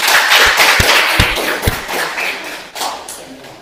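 A small group in a classroom claps at close range after a student presentation, the claps loose and uneven with separate sharp slaps and thumps that thin out toward the end.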